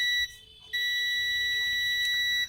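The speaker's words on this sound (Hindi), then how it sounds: "बीप भी आ रहा है" A beep from the audio IC on a Samsung LED TV motherboard under voltage testing during repair of a dead or standby fault: a steady, loud electronic tone that breaks off once briefly, then resumes and holds to near the end.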